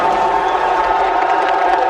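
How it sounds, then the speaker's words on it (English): A dense, roaring crowd cheers continuously at an esports finals event in Riyadh, loud and sustained with scattered whoops and some clapping in the mix. "you will not find a more electric place on the planet than here in Riyadh right now. Listen to that crowd."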